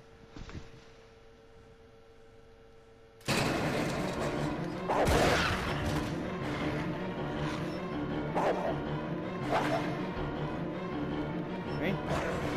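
Zombie dogs in Resident Evil 0 barking, snarling and lunging amid crashing impacts and gunfire-like hits, loud and busy after a quiet start, with a player talking over the action.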